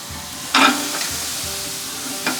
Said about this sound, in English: we're gonna go ahead and add our ribs and get a nice sear on them